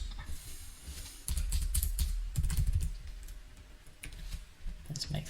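Someone types on a computer keyboard with quick, close clicky keystrokes in short bursts, faint background hiss between them.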